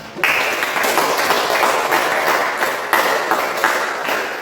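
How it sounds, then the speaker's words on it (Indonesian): A classroom audience applauds a student named Alma during a coding lesson, with steady, dense clapping that starts abruptly and keeps going at an even level throughout. "beri aplaus untuk Alma"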